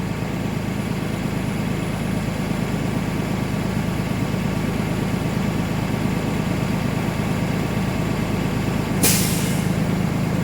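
Bluebird school bus air brake system building pressure toward governor cutoff at 120 to 140 psi, a steady idling engine and compressor drone, ending in a short sharp hiss of released air.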